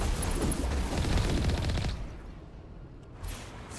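Video game combat from Mass Effect with rockets and gunfire produces a dense, loud barrage of rapid shots and booms that cuts off abruptly, leaving quieter ambience and one brief later burst, with no speech.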